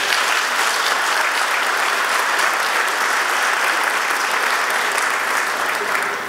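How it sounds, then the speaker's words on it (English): Sustained, dense applause from a graduation ceremony audience at West Lothian College, loud and steady for the full stretch before tapering slightly at the end. "I was beginning to think you weren't allowed to clap"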